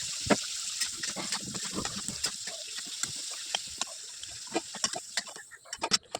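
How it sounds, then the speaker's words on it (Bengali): Potatoes fry in oil in a wok with a steady bubbling hiss and irregular sharp pops and crackles. The sound is close and fairly faint, and no one talks. "তেলে ওই যে আলুটা ভেজে নিচ্ছি"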